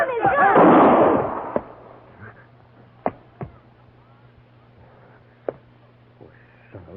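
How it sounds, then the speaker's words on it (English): A gunshot in a film as a man shoots himself: a loud blast opens, followed by several sharp, fainter cracks and clicks over a low steady hum, with no speech. "He shot himself."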